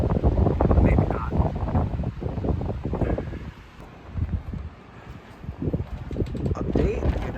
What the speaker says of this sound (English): It is absolutely gusting out here.